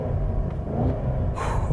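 Deep, continuous exhaust rumble from a 2022 Cadillac CT5-V Blackwing with manual transmission and its exhaust valves opened, steady and close, with a brief higher hiss near the end.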